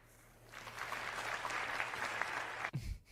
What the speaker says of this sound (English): Less claps from that one.